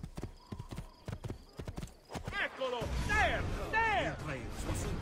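Horse hooves clip-clopping at a steady trot in Assassin's Creed 2, loud and close, with a horse neighing and overlapping game voices in the second half.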